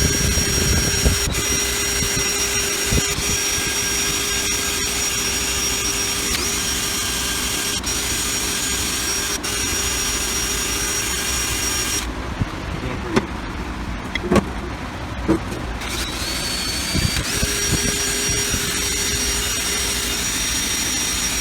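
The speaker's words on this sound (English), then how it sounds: "We're just going to use this nylon brush right here on the drill bit." A drill spins a nylon brush inside the valve guides of a GM LS V8 cylinder head, clearing carbon and oil sludge. A steady whirring motor runs nearly the whole time, with a quieter stretch in the middle and a few sharp clicks.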